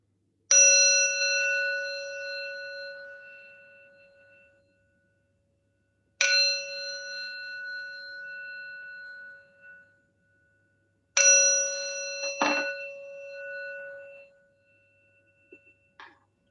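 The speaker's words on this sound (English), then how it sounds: "bowing 3 times following the sound of the bell" A temple bell rung for bowing at a Buddhist Wesak gathering, struck three times about five seconds apart, each a clear ringing tone that slowly fades, with a faint rustle after the last stroke.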